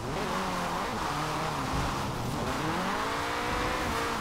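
A car in the racing video game Forza Horizon 4, driven with a Logitech G920 wheel, roars steadily under engine revs, with the pitch rising and dipping as it drives and shifts, loud and continuous throughout.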